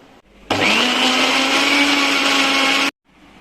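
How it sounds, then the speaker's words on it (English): A kitchen grinder whirs steadily for about two and a half seconds while blending a chutney mixture of salt and lemon for paratha, loud and close with an abrupt start and stop, no voices. "After that I will grind and will prepare the chutney to eat with the paratha."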